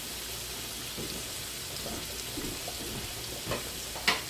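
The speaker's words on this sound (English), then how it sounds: "I have some garlic browning up really nicely into some butter." Garlic browns in melted butter in a pan during meal prep, a steady soft sizzle and crackle heard up close and low in level, with a few sharper pops near the end and no voices.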